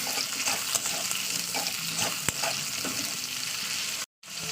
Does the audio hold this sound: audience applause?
no